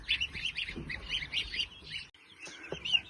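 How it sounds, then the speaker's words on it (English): High, rapid peeping of young goslings under a heat lamp, several chirps overlapping close by, steady and busy with a short lull midway. "there's the little geese."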